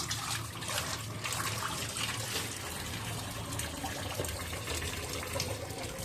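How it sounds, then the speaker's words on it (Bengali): Kitchen tap runs steadily into a sink, a continuous broadband rush of falling water that holds an even level from start to end with no talk. "কল ছেড়ে দিলাম।"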